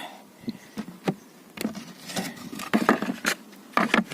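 A wooden beehive lid is lifted with scattered knocks and scrapes, while a faint buzz of bees comes from inside the hive, close by and without speech.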